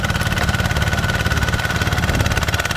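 A ZT155PLUS walk-behind tractor with a roughly one-metre-wide rotary tiller runs dry, its engine a loud, close, steady rhythmic chug with a constant mechanical hum and vibration.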